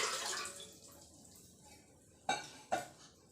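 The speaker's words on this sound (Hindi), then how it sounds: "देचकी में हम 1 लीटर पानी डालेंगे।" One litre of water poured into a cooking pot on a lit stove for chicken bone stock gives a brief rushing splash that fades out, then two sharp metallic clanks from the pot.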